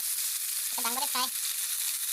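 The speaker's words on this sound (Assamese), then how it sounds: "দাংবডি ফ্ৰাই" Dangbodi frying in a pan, a continuous close sizzle, with a short vocal sound briefly cutting in partway through.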